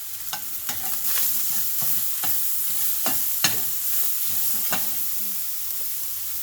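Dan dan noodle sauce of spicy pepper paste cooking in a pan, with steady sizzling and frying under repeated scraping and stirring strokes, close and moderately loud, no voices.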